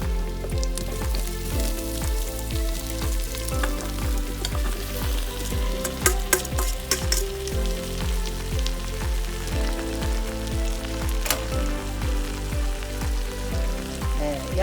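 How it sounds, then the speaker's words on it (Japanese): Vegetables stir-fried with minced garlic in a pan for oxtail stew, a constant loud sizzle with a regular rhythm of spatula strokes scraping and tossing, plus a few sharp clinks, with no voices. "野菜と野菜を入れて炒めます"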